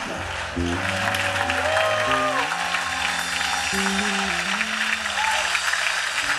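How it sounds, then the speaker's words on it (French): Church congregation applauding and acclaiming during a worship service, a steady wash of clapping and cheering under sustained musical tones and some voices. "Est-ce que Dieu peut recevoir une acclamation glorieuse ce matin?"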